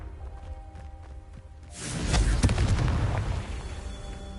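A Confringo fire spell from Hogwarts Legacy erupts midway as a loud booming blast that swells and rumbles for a couple of seconds before fading, after a quieter stretch of game ambience.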